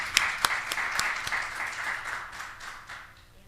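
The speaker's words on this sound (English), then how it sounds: "Just one final applause for all of them." A school board meeting gives final applause for its LCAP committee, starting with a few sharp, close claps and swelling into a moderate round of clapping from the room that gradually tapers off.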